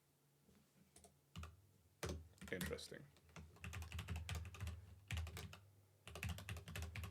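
Rapid clattering keystrokes on a computer keyboard in bursts and steady runs, close and fairly quiet, with one brief spoken word partway through.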